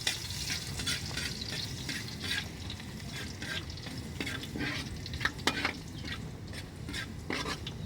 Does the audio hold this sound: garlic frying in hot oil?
yes